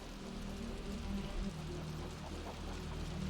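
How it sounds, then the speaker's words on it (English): Heavy rain falls steadily in the video game Wuthering Waves, a soft, even hiss of drops on surfaces with a faint low rumble beneath and no voices. "The rain's getting heavier."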